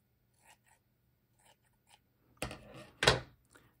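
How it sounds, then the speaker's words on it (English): Scissors snipping through tulle fabric, two sharp close cuts near the end after a few faint clicks and rustles, quiet and without talk. "So I'm going to cut some tulle up here."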